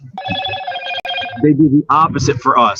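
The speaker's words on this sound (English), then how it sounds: "I think that's my phone ringing." A phone rings with a bright, sustained electronic trill for just over a second, loud and close, then stops as people talking on a podcast take over.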